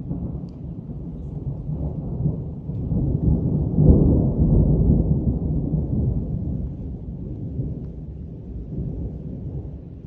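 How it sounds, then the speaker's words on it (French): A deep roll of thunder builds and swells at a distance during a heavy rainstorm, rumbling low and long over steady pouring rain. "J'espère que je vais pas avoir trop d'autres orages"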